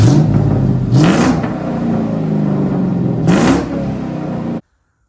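A Mustang with a manual transmission drives along, its engine a loud steady drone that rises in pitch during two shifts or revs before cutting off abruptly.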